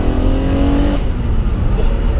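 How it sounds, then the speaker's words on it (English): A BMW M1 with a dogleg gearbox revs loudly close up as it changes down, its steady engine tone breaking off partway through into a rougher, shifting roar. "just change it down this lovely dogleg gearbox"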